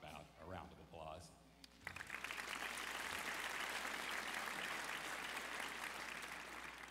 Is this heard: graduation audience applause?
yes